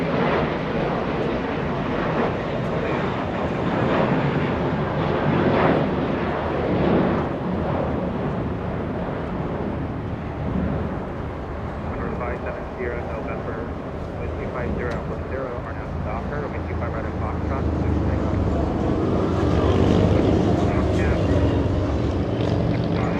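An American Airlines jet at Los Angeles International Airport makes a steady, loud engine roar that swells and fades over a long stretch, with a person talking over it.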